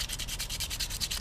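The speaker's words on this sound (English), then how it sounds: "It's quite important to give the tag a good sanding before you apply the primer." A turtle spot tracking tag being sanded by hand before primer is applied, with steady, even rasping strokes in a quick repeating rhythm, close and alone with no talk.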